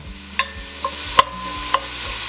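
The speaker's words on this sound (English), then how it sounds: "just let these onions cook down slowly in that bacon grease" Onions cook slowly in bacon grease for a butternut squash soup, with a soft steady sizzle beneath a few light clinks of a utensil against the pan.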